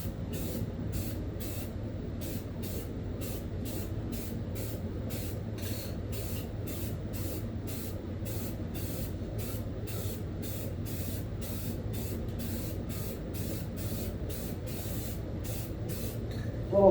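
Rapid rhythmic bursts of spray paint hiss steadily as a thicker coat goes onto a Mazda RX-7 turbo engine part, close and continuous for the whole stretch with no talking.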